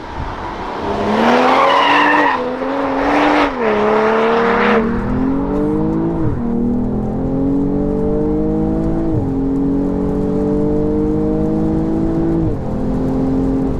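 Tuned BMW M240i xDrive (JB4) accelerating hard, loud and close: tire squeal at launch, then the engine climbing through gears with repeated rising whines broken by quick shift dips.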